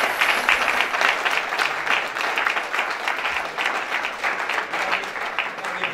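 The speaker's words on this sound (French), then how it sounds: "mes amis, on applaudit Franck" An audience applauds at a film cast presentation, dense continuous clapping from a sizeable crowd that holds steady and slowly eases off.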